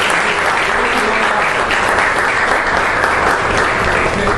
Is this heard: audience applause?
yes